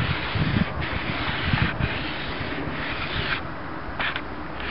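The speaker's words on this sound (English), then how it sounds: "3000 grit wet dry sandpaper, just a little mist. I don't tighten it down onto the block or anything like that. And then I'll run it backwards and forwards." A Mora knife edge is stroked back and forth on misted 3000 grit wet/dry sandpaper over a block, a close, continuous soft abrasive rasping with gentle rhythmic swells of each pass.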